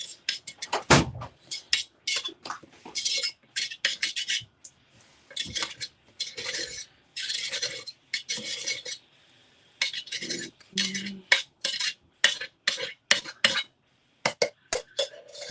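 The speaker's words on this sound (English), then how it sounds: "I'll just scrape it off the sides, bringing it down into the pot" Metal utensil scraping melted soy candle wax down the sides of a pot, heard as repeated close, bright scrapes and clinks in short bursts separated by brief pauses.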